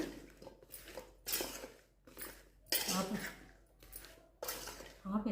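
Mango pickle pieces being mixed in oil in a pot or bowl, wet clinking and squishing strokes in several bursts, close and moderately loud, with a person talking over them.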